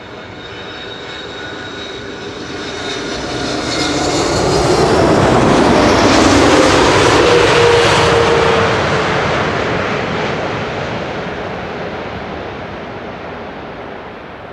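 An airliner lands at Schiphol Airport, a broad roar that swells as it passes close, peaks loudly as the thrust reversers kick in, then slowly fades away into the distance.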